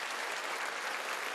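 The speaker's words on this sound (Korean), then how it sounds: "박수 좀 쳐줘요." A church congregation breaks into steady, dense applause during a Sunday worship service, a continuous wash of many hands clapping at once that holds evenly throughout.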